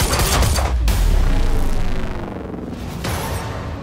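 Gunfire in the video game Quantum Break, a dense burst of overlapping shots and booms up close, easing into a quieter volley after two seconds and flaring again near the end, with no talking.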